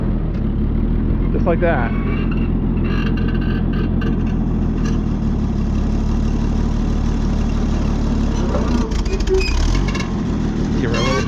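A tractor engine with restricted fuel flow fires back up and settles into a steady, loud, low idle, with brief knocks and a short spoken remark over the running engine.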